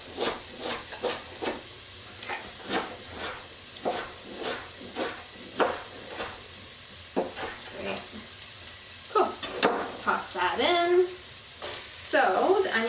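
Onions sauté in a pan with a soft sizzle under repeated stirring strokes and scrapes, while a person talks in the background.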